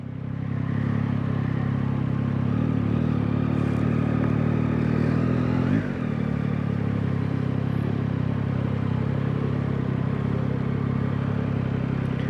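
A 2024 Yamaha MT-09 motorcycle on the move, a steady droning engine hum with a brief pitch dip midway, heard under constant wind rumble from the rider's position.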